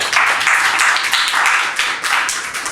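A group claps together in a brief burst of applause, fairly close and loud, lasting a few seconds with uneven swells.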